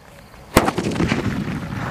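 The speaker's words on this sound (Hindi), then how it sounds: "टेस्ट करते हमारे ग्रीन सूतली का और देखते हैं ये कैसी चलती है" A green sutli firecracker bursts during a Diwali fireworks test, one sharp loud bang followed by a scatter of crackling pops and rumbling echo trailing off outdoors.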